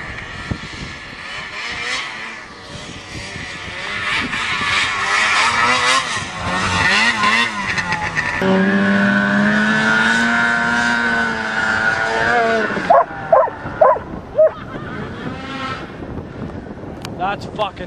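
A snowmobile engine roars and revs through jumps on a snowy hill, its pitch rising and falling under gusting wind noise. Excited voices shout and talk over it before it cuts out.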